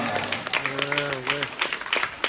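A church congregation in Guadeloupe breaks into applause and acclamation, with dense clapping and cheering voices rising around a sustained sung or called-out voice throughout.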